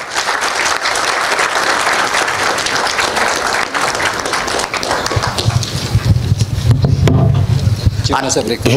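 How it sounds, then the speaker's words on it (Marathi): A training session audience bursts into loud, sustained clapping that swells and thickens in the final seconds, with some voices mixed in. "त्यांचं विशेष अभिनंदन करून एकदा जोरदार टाळ्या होऊ द्या"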